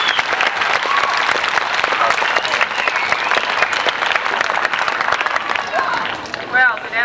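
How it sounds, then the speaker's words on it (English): An audience applauds a Navy Reserve lieutenant commander as guest speaker at a school event, a loud, sustained burst of many hands clapping close by, with a few voices mixed in and a brief squeak near the end. "Nice round of applause for Lieutenant Commander Halligan."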